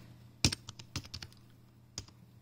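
Someone types a home address on a computer keyboard, with scattered close key clicks, a quick cluster of taps and a last separate keystroke.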